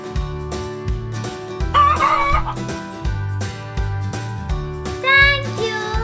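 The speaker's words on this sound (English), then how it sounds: "Hen. Egg layers and backyard guardian." Hen clucking in a farmyard setting, with a few raised clucking bursts around two and five seconds rising over steady background music that runs throughout.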